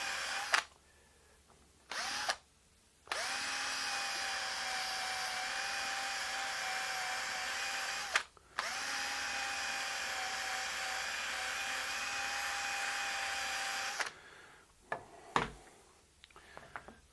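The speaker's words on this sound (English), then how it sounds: "wheel with a groove in the edge that I can run along the edge of my straps to round over the side and burnish it all" A rotary burnishing wheel runs against the edges of a leather guitar strap, giving a steady, close motor whine in long sustained stretches broken by short pauses, with a few knocks near the end.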